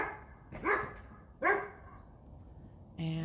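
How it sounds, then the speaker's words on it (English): A dog barks outdoors beside a frozen lake on a cold winter morning. Three separate barks, each about a second apart, sound moderately close against a quiet background. "And the dog is barking."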